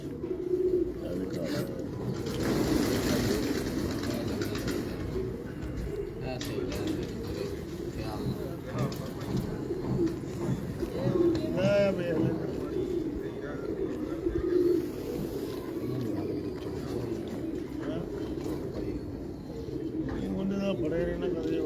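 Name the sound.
pigeons cooing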